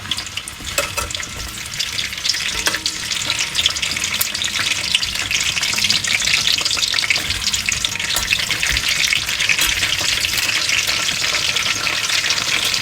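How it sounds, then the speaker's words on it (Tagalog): Slices of sweet potato fry in hot oil with a loud, steady crackling sizzle that carries on evenly, close up and without talk. "Isunod natin itong kamote. Mainit na yung mantika."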